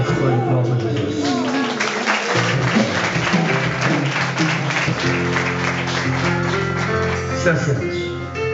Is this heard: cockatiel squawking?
no